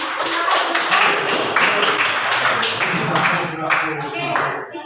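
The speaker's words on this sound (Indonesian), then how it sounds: "beri aplaus buat Salmo" A classroom of students applauds a classmate after a group presentation, a steady wash of many hands clapping together for several seconds, with voices mixed in.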